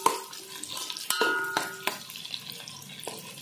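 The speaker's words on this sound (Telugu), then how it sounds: "గోల్డెన్ బ్రౌన్ కలర్ వచ్చే వరకు వేయించుకోవాలి." Onions and green chillies frying in a pan until golden brown, with quiet sizzling broken by sharp scrapes and clinks as a utensil stirs against the pan.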